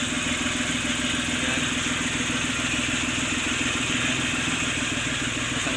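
A motorcycle engine with water in its carburetor idles steadily, a continuous low rumble with a sputtering mechanical texture, close by and without speech.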